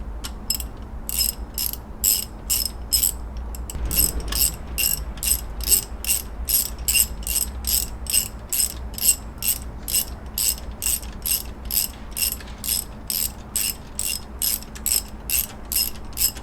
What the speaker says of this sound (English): Next we're going to loosen the tension bolt to loosen the belt up so we can take the belt off.